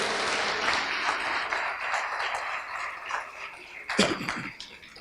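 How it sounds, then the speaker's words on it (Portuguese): Audience applause at an event, a steady wash of clapping that runs throughout and swells briefly near the end. "Um aplauso para o bom mês"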